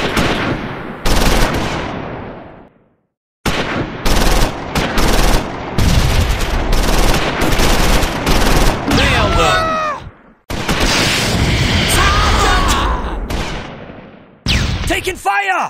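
Loud close gunfire in bursts, machine-gun rattles and single cracks separated by short silences, with whistling, ringing tones and faint voices in between.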